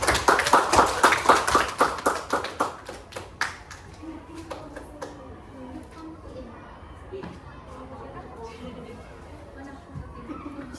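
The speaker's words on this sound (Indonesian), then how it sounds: "Beri dulu aplaus untuk teman-teman." A classroom of students gives a quick burst of applause for their classmates. The clapping fades after a few seconds into soft murmuring and chatter.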